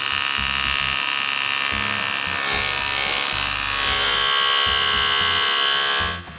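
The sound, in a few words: miter saw cutting aluminium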